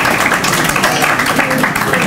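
Applause from the audience at a youth tech program graduation ceremony in Roseland, a dense, steady wash of many hands clapping, fairly loud and continuous throughout.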